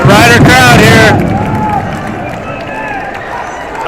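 Home crowd at a high school playoff football game roars after a catch, a loud, dense burst of cheering with a whistle that fades after a second into a lower murmur of crowd noise.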